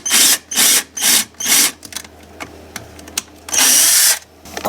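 A power drill bores a pilot hole while building a kitchen counter, in four short loud whirring bursts, then quieter clicks and handling, and a final longer burst of drilling.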